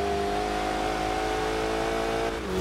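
A 450 PS four-cylinder Alfa Romeo 4C, a lightweight race-car build in Forza Horizon 2, accelerates hard with a loud, steady engine drone close up, the pitch holding and dipping slightly near the end, with no talking.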